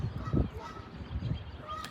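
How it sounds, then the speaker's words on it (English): A flock of geese honks in the background on a golf course, faint and distant calls repeating a few times with the course's outdoor ambience around them. "We got the geese chirping in the background."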